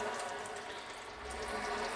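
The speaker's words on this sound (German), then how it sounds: "Wenn man den jetzt etwas aufdreht, dann sieht man, der spritzt links und rechts. Überall kommt Wasser hin," A leaking faucet on the sink of a Carthago C-Line camper van sprays water, a steady hissing rush with splashing, close and even throughout with no talk.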